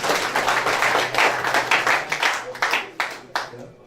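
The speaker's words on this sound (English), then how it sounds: "Clap" A church congregation at a Sunday service claps in a burst of rhythmic hand claps that thin out into scattered, separate claps, with talk underneath.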